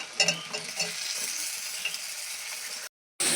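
Spices, garlic and chopped tomato sizzling in a pan while being stirred, a close steady fry with light scraping and clinking of the utensil, then a brief drop to silence before the sizzle resumes.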